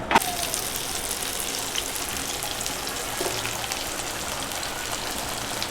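Prawns and surmai fish pieces fry in masala, a steady hiss and crackle of hot oil that holds at an even level throughout, with a faint clink near the start and no speech.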